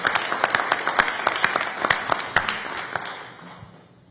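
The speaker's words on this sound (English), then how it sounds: "round of applause" Attendees at a joint House and Senate agricultural and rural affairs committee meeting clap, crisp, distinct claps from a modest group that gradually thin out and fade toward the end.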